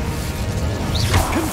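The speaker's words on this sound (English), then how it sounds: "Incendio!" Incendio fire spell cast in the Hogwarts Legacy video game: a sharp whooshing burst with a crackling flare and brief rising magical tones, loud and close over a steady background rumble.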